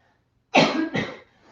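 A yoga instructor coughs twice in quick succession from a tickle in her throat, close and fairly loud, with a short breath between the bursts and quiet before and after.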